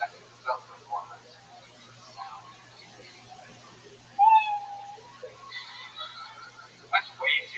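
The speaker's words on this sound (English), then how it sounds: "That's way too loud. That kitty." A house cat meows loudly once in the middle, a drawn-out wail, then gives a couple of shorter calls near the end over a faint room hum, during a comedy set.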